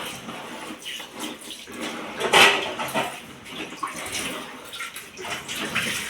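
Running water splashes over banana leaves as they are rinsed under a tap, a steady wash with one louder gush partway through.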